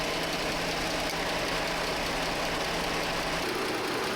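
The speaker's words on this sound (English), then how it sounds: "Start the engine and let the AC run on full blast." A 2011-2014 Dodge Charger engine idles steadily with the AC running at full blast, giving a loud, continuous close-up hum with a faint tonal drone and no talk.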